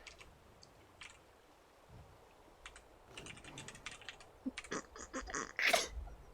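A computer keyboard is typed on close by: sparse scattered clicks at first, then denser rapid bursts of keystrokes building toward the end.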